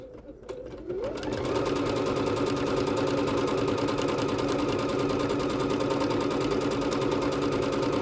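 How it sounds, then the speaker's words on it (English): A Bernette B-77 sewing machine starts up after a brief pause and runs steadily, stitching out decorative stitch 166 with a fast, even mechanical whir and rapid needle clatter, close and continuous. "let's go ahead and drop our needle in and stitch this one out"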